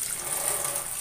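Water poured over whole shrimp with heads and legs to soak them, a steady close splashing hiss for a brief moment.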